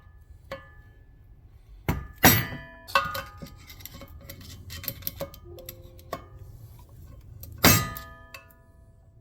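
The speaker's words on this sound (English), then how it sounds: "By grabbing a flathead and a hammer and just hitting it." A hammer strikes a flathead screwdriver against a metal clip during a Predator 212 Hemi engine build, giving irregular sharp metallic taps and clinks with two louder ringing blows, close by and without talk.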